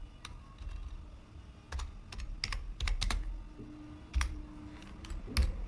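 Computer keyboard typing in short uneven bursts of crisp, close key clicks over faint background noise, with no voices.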